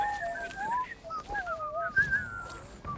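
Someone whistles a tune at close range, a sequence of clear, gliding notes that rise and fall in a loose melody, with short breaks and a faint background hum.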